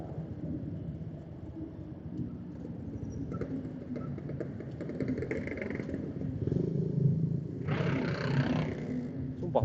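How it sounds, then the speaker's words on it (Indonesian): A motorcycle engine gives a deep, steady rumble that swells louder toward the end, with a short hissing burst near the close. "Sumpah motornya enak banget suaranya."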